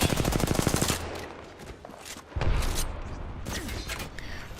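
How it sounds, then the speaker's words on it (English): Video game gunfire, a rapid burst of automatic shots up close followed by a few more scattered single shots and louder bursts. "Why do you keep shooting me?"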